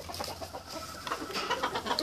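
A fine gamecock of the hatch blue face line, hen-feathered and kept in Morelos, clucks in short repeated bursts, close and moderately loud, with no talk over it.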